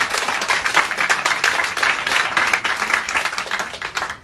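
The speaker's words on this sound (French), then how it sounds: "Un tournoi d'applaudissements pour tout ça." A crowd applauding at a ceremony honouring an award-winning Ivorian, dense continuous clapping from many hands, loud and close throughout, with no one speaking.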